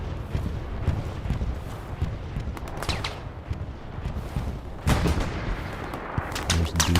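Gunfire and a tank hit in the World War II shooter Hell Let Loose. Dense, continuous shooting and explosions go on throughout, with a loud impact burst near the five-second mark and sharp cracks near the end.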